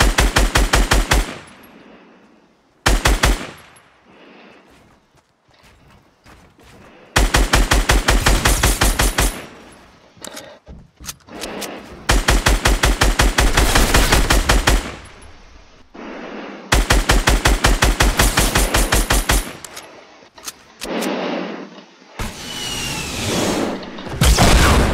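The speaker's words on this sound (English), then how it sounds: "Watch, if I shoot the bottom." Bursts of rapid automatic gunfire in the video game Fortnite come in loud, dense volleys separated by short quiet gaps and occasional booms.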